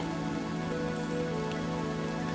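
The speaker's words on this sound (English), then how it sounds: "Picture the rain in your mind," Steady rain falling outdoors, a dense continuous patter of drops on surfaces with no pauses, close and even throughout.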